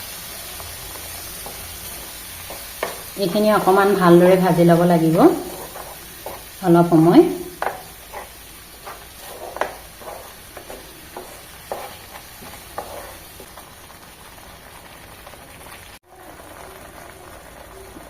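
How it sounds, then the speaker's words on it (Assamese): A pan of frying almond and tomato mixture sizzles softly under a woman's speech, with light stirring and scraping clicks scattered throughout as the cooking goes on. "এইখিনি অকণমান ভালদৰে ভাজি ল'ব লাগিব।"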